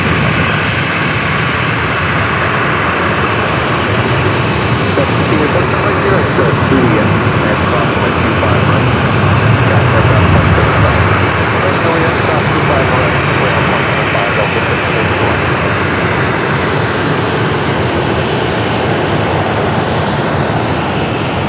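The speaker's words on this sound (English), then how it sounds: "A330 departures." Airbus A330 airliners departing Los Angeles airport, a loud sustained roar of jet engines at takeoff power filling the whole stretch, swelling slightly midway, with a voice speaking over it.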